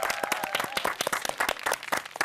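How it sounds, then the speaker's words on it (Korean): A studio audience on a Korean TV variety show claps for a singer's family, with rapid, uneven individual hand claps close by and a faint voice mixed in. "박수."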